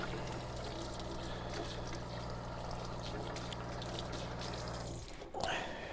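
Water pours steadily from a remodeled kitchen faucet, a continuous close rushing stream that cuts off near the end with a brief clatter.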